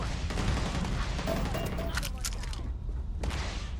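Gunfire in the video game Starfield crackles as a steady muffled stream of shots with a few sharper bursts standing out, set against constant rumbling game ambience.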